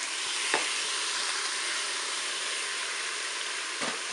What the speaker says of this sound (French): J'ajoute mes champignons de Paris.